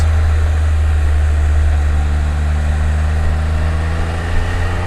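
A Can-Am Spyder three-wheeler's engine hums steadily at around 2,700 to 3,000 RPM while riding, a loud, constant low drone with no voices.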